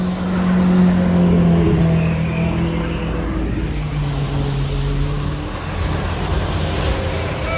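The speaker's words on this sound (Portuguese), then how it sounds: "uma 488 pista aqui, ó, passando aqui" A Ferrari 488 Pista sports car on Avenida Europa in São Paulo sweeps past with a loud, steady engine note that swells near the start and stays strong under street background, with no talk.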